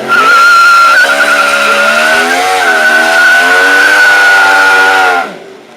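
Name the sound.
Yamaha R1 motorcycle stunt with Pirelli tyre squealing, burning rubber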